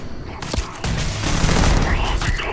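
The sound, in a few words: gunfire in the video game Starfield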